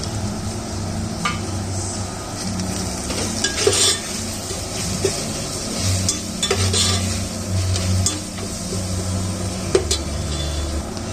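Masala fries and is stirred in a pan for country chicken biryani with mint and coriander: steady close sizzling with repeated spoon scrapes and clinks against the pan, no talking.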